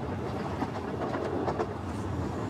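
A train rumbles along a heritage railway line in the Lake District hills, once an iron ore line, giving a steady close rolling roar with faint clattering and no speech.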